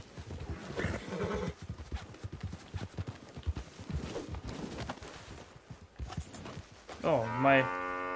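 A horse in a Western video game trots with clip-clop hooves, then gives a loud neighing whinny near the end, with background game sounds and a player's voice.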